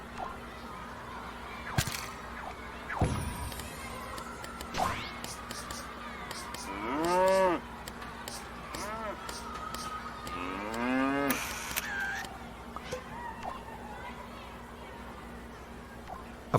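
Elderflower the cow from LittleBigPlanet 2 lets out several drawn-out, wavering moos, the loudest around the middle, over a steady game hum with scattered clicks and whooshes.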